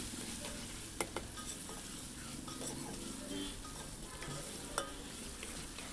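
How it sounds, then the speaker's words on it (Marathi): Chopped onion and a small red tomato fry in a pan with a steady, quiet sizzle, broken by a couple of sharp utensil taps against the pan. "कांदा भाजून झाल्यावरच मी इथे टोमॅटो ॲड केलेला आहे"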